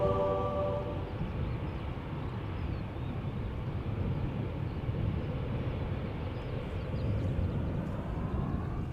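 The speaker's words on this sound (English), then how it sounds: "airplane flying for Air Malta, operated by Aviation Express Malta. Flight 394 A320, arriving from Malta" An Air Malta Airbus A320, operated by Aviation Express Malta, arrives at Amsterdam Schiphol, a steady low broadband jet roar held at moderate level throughout with no talk.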